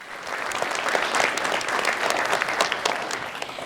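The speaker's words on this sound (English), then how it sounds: "Let's give Mindy a round of applause" An audience applauds yoga instructor Mindy at a talk on yoga for MS patients, steady, fairly close clapping that swells and holds for several seconds.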